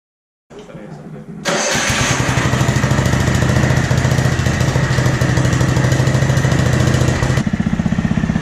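A John Deere 6X4 utility vehicle fitted with a four-wheeler engine cranks and starts, then runs steadily at a loud, close, chugging idle for several seconds before a slight drop near the end.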